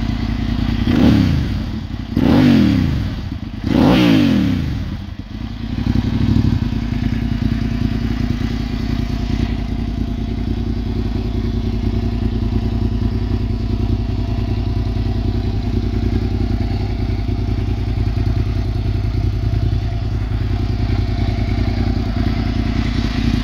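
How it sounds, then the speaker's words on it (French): A 2005 Suzuki SV650N V-twin motorcycle with a Devil exhaust blips its throttle three times, then settles into a steady, throbbing idle that carries on. "Et le son du bicylindre bien connu du SV."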